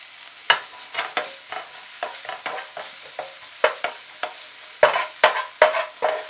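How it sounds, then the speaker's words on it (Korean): Blanched spinach is stir-fried briefly in a frying pan, with a soft sizzle under repeated sharp scrapes and clacks of a utensil against the pan at an uneven rhythm, close up and with no talking. "시금치는 한번 데쳤기 때문에 프라이팬에서 오래 볶지 않습니다"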